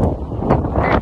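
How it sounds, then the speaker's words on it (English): Loud, blustery wind buffeting a microphone on Mammoth Mountain, a constant low rumble with gusts swelling near the middle and end, no voices. "Sorry, it's very windy."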